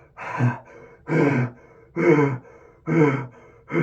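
A voice imitates heavy breathing: four loud, rhythmic breaths in and out, evenly spaced and close to the listener.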